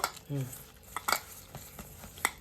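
Ginger and garlic paste being worked into a paneer tikka marinade in a bowl, with close scraping and clinking of a spoon against the dish in short uneven bursts, a brief voice murmur near the start.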